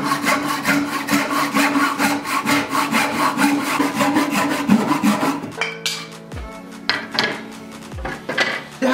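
A cheap hand saw with rip teeth cross cuts wood in quick, rhythmic rasping strokes, loud and close, then slows to a few scattered, uneven strokes as the cut finishes.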